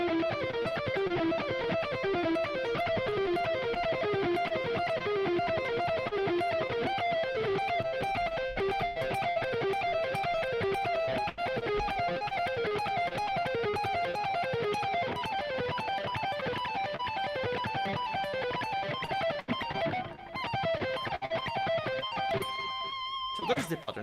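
An electric guitar slowly plays a short practice pattern, looping the same note sequence in an even, steady rhythm, heard clearly on its own without talk.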